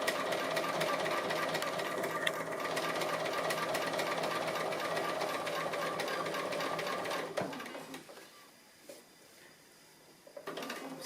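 A sewing machine stitches fine applique around small handlebar shapes on a frame, a close continuous rapid hum for most of the time, then slowing to a stop with scattered clicks and a brief restart.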